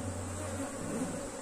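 Honeybees at an opened hive with the honey super being checked give off a steady, dense hum. It runs close and continuous throughout, with no talk over it.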